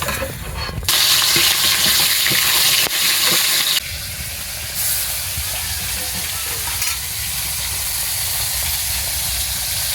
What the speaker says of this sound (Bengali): আমি বাঁধাকপির জন্য এই মাছের মাথাগুলোকে ভেজে নেবো